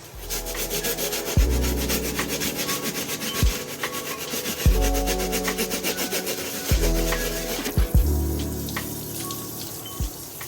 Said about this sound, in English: Now I'm going to switch over to a brass bristle brush to go ahead and clean up the actual bottoms of the soles.